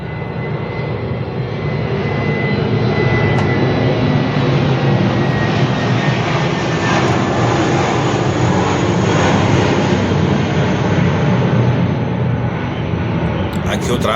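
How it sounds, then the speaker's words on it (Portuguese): An airplane passes overhead with a loud, steady jet-engine roar that swells gently and fills the whole stretch, a continuous rumbling wash without breaks. "Vai passar mais um avião."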